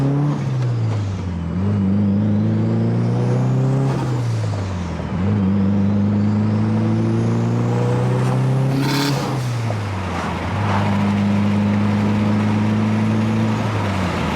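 A Mitsubishi Evo 8 turbo engine at low boost with a Tial blow-off valve revs up repeatedly and drops back between pulls, with a brief hissing release midway, all fairly loud against outdoor wind and no talking.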